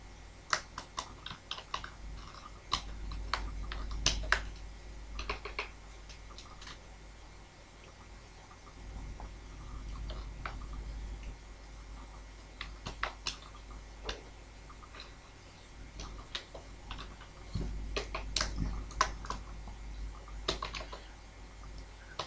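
Keys clacking on a computer keyboard as C++ code is written, in irregular bursts of quick taps separated by short pauses, close and fairly quiet with no talking.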